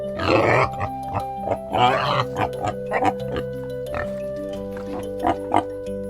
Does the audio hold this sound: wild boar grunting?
yes